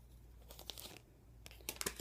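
Pre-shuffled tarot cards being laid out, with faint papery rustles, crinkles and soft slaps of cards placed close by in a quiet room.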